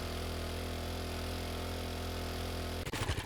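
Supercharged vehicle engine in 7 Days to Die runs at a steady, even drone throughout, then gives way to a brief rumbling jolt near the end.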